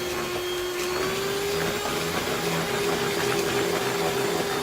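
Electric hand mixer whirring steadily through cake batter, a loud continuous motor drone with a sustained pitch that dips slightly early on, running alone without talk.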